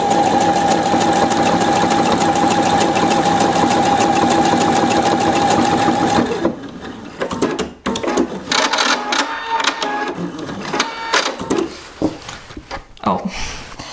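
A Pfaff 720 sewing machine sews a buttonhole in one long, steady, close mechanical whir for about six seconds, then gives way to clicks, fabric handling and a speaking voice.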